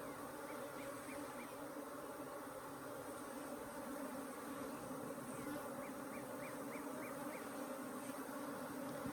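Africanized hybrid honey bees swarm around an open hive in southern Arizona, giving a steady, dense buzzing hum that holds at an even level throughout with no voices.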